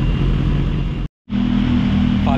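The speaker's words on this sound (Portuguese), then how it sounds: "vamos deixar a moto aquecer" A Cagiva 125 motorcycle engine warms up during fuel-injection throttle body balancing, idling with a steady, close drone that cuts out for a split second before resuming.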